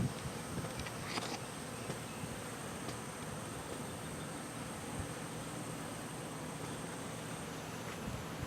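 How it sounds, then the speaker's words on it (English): Honey bees orienting in front of their hive make a dense, steady buzzing hum close by, with occasional individual bees zipping past, continuous throughout with no voices. "let's take another peek at the bees. Orienting in front of the hive."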